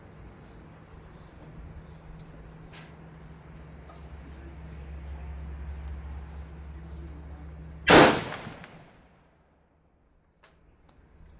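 A single loud, sharp M1 Garand rifle shot cracks out at a bench rest, rising abruptly over low steady background hum and fading quickly into near silence, with a faint click afterward.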